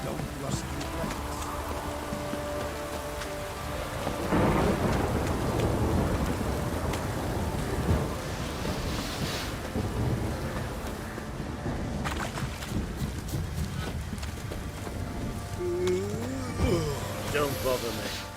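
Steady rain with rumbles of thunder in the video game The Witcher 3: Wild Hunt, a continuous wet hiss with low rolling swells, heard under game voices and ambient music.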